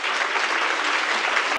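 Dense applause from wedding guests at a Korean wedding ceremony, with many hands clapping loudly and evenly before cutting off abruptly.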